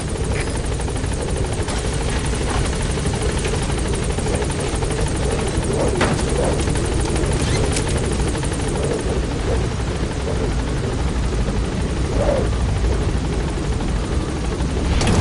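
Helicopter in the video game Metal Gear Solid V hovers at a landing zone, its rotor thrumming loud and steady throughout without a break.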